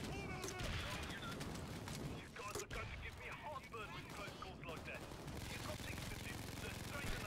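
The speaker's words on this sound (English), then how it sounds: "here's a medic dozer with his super overpowered 10 damage SMG" SMG gunfire from a medic dozer in the video game Payday 2, rapid automatic bursts and loud chaotic combat noise running throughout.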